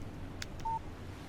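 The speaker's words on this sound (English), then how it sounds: "Text message from Barry." A short electronic phone beep signals an incoming text message in Alan Wake, a faint, brief tone over a quiet low hum.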